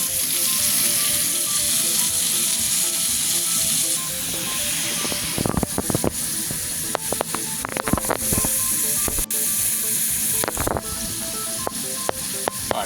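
Meat frying in a hot pan with an extra pat of butter, cooked toward medium rare: a steady, close sizzle with sharp crackles and pops growing busier partway through, no voices.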